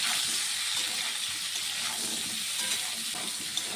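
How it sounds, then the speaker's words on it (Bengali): Potatoes and cauliflower fry in a pan of oil with a steady, dense sizzle that runs close and loud through the whole stretch, with no talking over it. "এখন আলু আর ফুলকপিটাকে একটু ভেজে নেব।"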